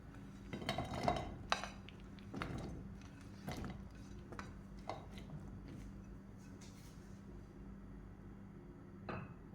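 Cut pineapple pieces dropped into a pan, heard as several scattered, faint clinks and metallic knocks of fruit and utensil against the pan in a quiet kitchen.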